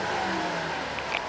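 A 2008 Buick Enclave CXL AWD with a 3.6-liter engine revs briefly, a close, sustained engine roar that holds steady.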